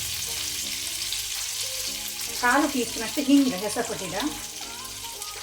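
Curry leaves, chillies and garlic frying in oil on a low flame for moong dal thove, giving a steady, soft sizzle with occasional stirring while a voice talks over it.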